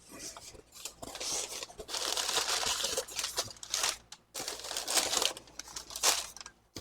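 A paper envelope holding a mailed model kit is opened by hand, with close, uneven bursts of crinkling and tearing paper separated by short pauses, and no talking.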